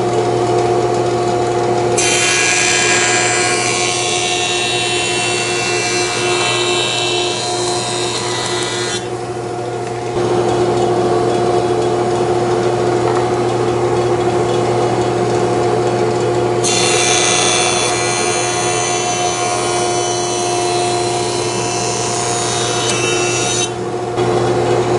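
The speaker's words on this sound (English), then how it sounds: "I need to run them over the jointer here so I can smooth one face" Wood boards pass over a jointer, with the cutter head droning steadily and loudly throughout and two long, harsher cutting passes, each lasting several seconds.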